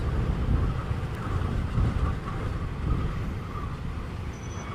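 A steam train on the Cape Town to Elgin line draws near, a broad, steady rumble and rush of wheels and machinery that holds loud and continuous throughout with no voices.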